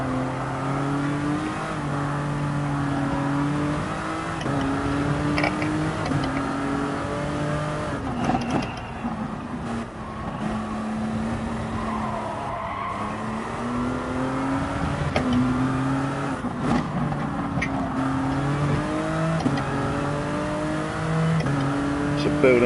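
A race car engine screams through a Grand Prix circuit at Spa, revving high, dropping through downshifts with blips, then pulling hard again, loud and continuous for over twenty seconds with a voice talking over it.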